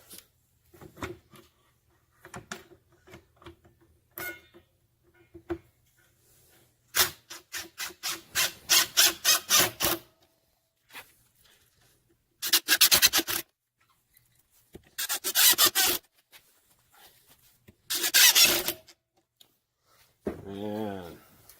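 Screws driven into a door hinge during galley door assembly, with several bursts of a power driver whirring alone between quieter stretches of handling and brief talk.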